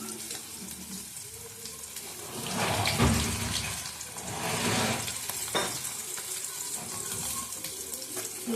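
Cabbage frying in a pan with a steady sizzle, swelling and fading as it is stirred, joined by intermittent running water in a nearby sink.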